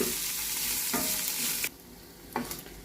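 Grated coconut and green chillies frying and being stirred in a hot pan for a coconut tomato chutney, a steady close sizzle broken by a few scraping stir strokes, with a quieter hiss after the coconut goes in.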